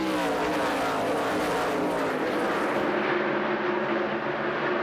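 NASCAR stock cars race at New Hampshire in a loud, continuous engine roar, several cars droning together with a pitch that slowly shifts as the pack sweeps past.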